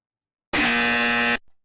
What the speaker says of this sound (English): Where's the extremely loud, extremely incorrect buzzer